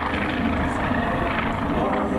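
Polikarpov I-16 fighter plane at an airshow, its radial engine and propeller producing a steady, loud droning roar that holds evenly throughout without a break.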